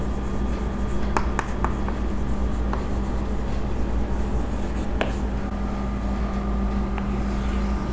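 A pen scratches across paper as a journal entry is written by hand, with faint strokes and a few light taps over a steady background hum.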